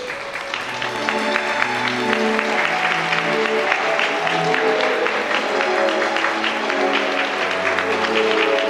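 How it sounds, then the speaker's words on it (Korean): Wedding guests at a ceremony hall clap as the mothers of the bride and groom enter, steady, sustained applause from a crowd, with sustained musical tones running beneath the clapping throughout. "양가 어머님께서 입장하실 때 따뜻한 박수로 맞이해 주시면 감사하겠습니다"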